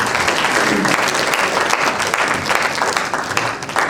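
An audience at a university departmental entrepreneurship lecture breaks into dense, sustained applause, many hands clapping together loudly for a few seconds.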